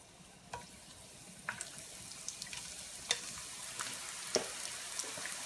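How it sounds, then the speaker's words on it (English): Food frying in oil makes a quiet, steady sizzle, dotted with a few sharp pops and crackles. "the frying of the corn tortillas"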